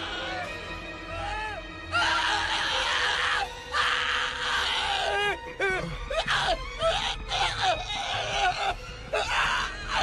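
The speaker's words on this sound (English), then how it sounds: "What was with that scream?" A loud, drawn-out wail or scream cries out near the start and carries over several seconds with moaning breaks, set in a tense scene from a samurai drama.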